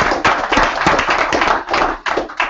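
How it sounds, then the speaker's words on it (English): Audience at a retirement savings education seminar gives a round of applause: a dense, steady wash of clapping with a few sharper taps, close and loud for the whole stretch. "Give him a round of applause"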